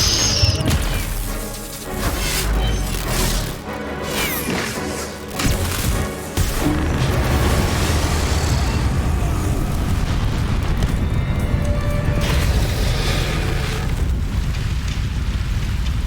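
Incendio fire spell cast in the video game Hogwarts Legacy, with roaring bursts of flame and heavy booms over a dense, continuous rumble of game effects, loud throughout with no speech.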